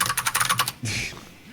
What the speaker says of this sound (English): Oh, I started typing, sorry. Yeah. Oopsie. Yeah, my keyboard's clicky.